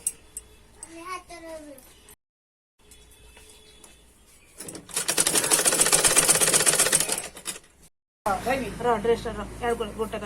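A sewing machine stitches an Anarkali dress in bursts, with one loud, rapid continuous run in the middle, while people talk before and after it.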